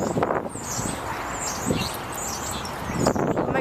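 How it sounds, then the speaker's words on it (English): Many birds chirping outdoors, a busy chorus of high tweets and calls over steady wind noise, with scattered louder chirps close by. "What the heck is going on with all that chirping?"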